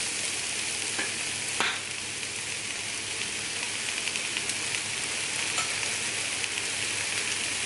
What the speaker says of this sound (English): Snap the mushrooms in, give it a quick cook.